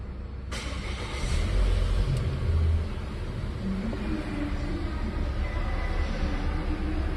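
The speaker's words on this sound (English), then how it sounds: "I'm gonna restart the car" A Volvo XC60 restarts after its auxiliary battery is replaced: a sudden start-up at half a second swells into a louder rumble for about two seconds, then settles into a steady low idle hum.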